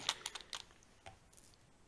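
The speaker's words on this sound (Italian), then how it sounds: "Ora inserisco appena i dadi, giusto per far tenere in posizione le rondelline evitando che saltino." Small metal nuts and washers clink and tick as they are fitted onto the terminals of a LiFePO4 battery pack, a quick burst of light taps followed by a few fainter clicks, close and quiet.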